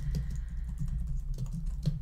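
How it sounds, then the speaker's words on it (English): Keys clatter in a quick, uneven stream as someone types on a Mac computer keyboard, close and moderately loud, with a low hum running underneath. "So I'm just typing this right now."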